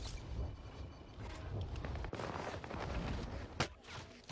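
A faint, distant mix of gunfire and sniper shots in a first-person shooter video game, with scattered cracks and booms over steady battle noise, one sharper shot standing out near the end.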